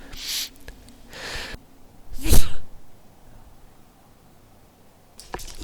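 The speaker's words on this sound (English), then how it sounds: "Oops, sneeze coming on, I think." A few sharp breaths build up, then a single loud sneeze bursts out, followed by quiet and a brief sniff at the end.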